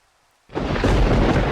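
Thunder in a video game storm: near silence, then a sudden loud crack that swells into a sustained heavy rumble with rain-like hiss.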